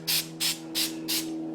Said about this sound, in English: So let's have you spray just a little more spray on there.